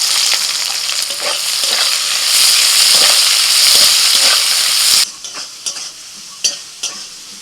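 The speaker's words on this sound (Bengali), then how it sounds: "পেঁয়াজ ভাজা হয়ে গেছে" Chopped onions fry in oil in a pan, crackling loudly and continuously for about five seconds. The sizzle then drops to a quieter simmer broken by a few sharp scrapes of stirring.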